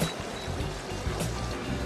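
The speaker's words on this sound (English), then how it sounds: "what you hear is the water just kind of swirling around the engines in the back here" Water sloshing and gurgling steadily against the hull of a 2009 Boston Whaler 345 Conquest, swirling around its idling outboard engines, a continuous churning wash at moderate level with no voices.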